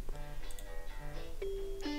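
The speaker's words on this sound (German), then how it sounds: "Telefon. Wer ruft denn da an?" A telephone rings with bright electronic tones, clear and close, ending in a sustained ring with no talk.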